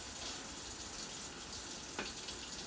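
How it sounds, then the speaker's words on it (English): Hot water running steadily from a kitchen tap during gravy making, a continuous even rush with a brief splashy burst near the end, no voices. "Turn your hot water on, right?"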